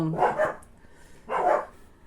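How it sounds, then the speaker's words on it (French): Two sharp dog barks from nearby, spaced about a second apart, with quiet background between them. "vous allez entendre les chiens qui gueulent comme d'habitude"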